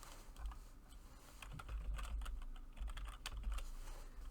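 Typing on a computer keyboard during an HTML lesson on web graphics: a steady patter of fairly quiet key clicks in irregular bursts, with no talk over it.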